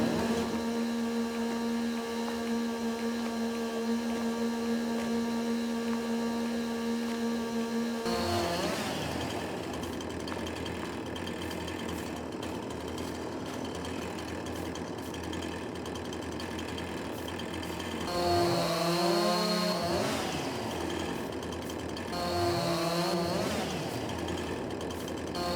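A tree is felled with harvesting machinery in Farming Simulator 22: a steady engine hum, then after a shift a busier cutting roar with two later rising whine sweeps as the machine works, no talk.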